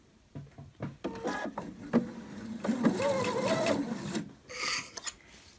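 A sewing machine stitches bias binding onto fabric, right side against the wrong side, running in short bursts with a rising whir mid-stretch before pausing, then a brief final run, close by.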